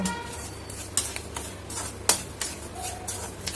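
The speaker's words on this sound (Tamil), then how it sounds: "அப்படியே அந்த ஒரு மாதிரி சத்தம் கேட்குது பாருங்க, பட்டு பட்டு பட்டுன்னு சவுண்டு கேட்குதா" Peanuts dry-roasting in salt in a home kitchen pan, giving faint scattered crackles and sharp ticks over a low steady hum, with a few louder scraping clinks from stirring.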